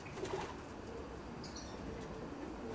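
Racing pigeons in a loft with grill floors give soft cooing and brief wing flaps amid a steady low background hum.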